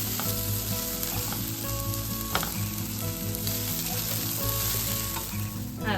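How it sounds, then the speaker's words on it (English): Garlic sizzling in a pan for a butternut squash risotto, stirred now and then: a loud, continuous close-up frying hiss with faint spoon scrapes and clinks, and no talking. "just keep stirring it so you don't burn it"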